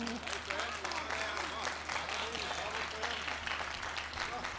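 Audience applause after a song at a Hindi poetry recital, sustained crowd clapping throughout with a voice speaking over it.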